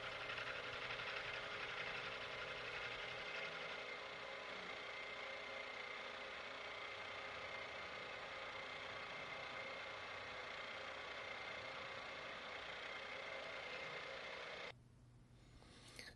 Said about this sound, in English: Using a mill, I'll mill out the pockets for the tang